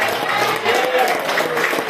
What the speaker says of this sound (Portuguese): E vamos aplaudir?